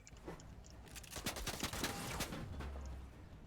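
A burst of rapid gunfire rattles out in a Fortnite match, several quick sharp shots clustered together at moderate distance, fading into a low rumble afterward.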